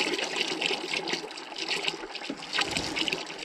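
Water splashes and gushes out of an opened pipe fitting in a rough, continuous spray with surging bursts, fairly close and loud, without talk.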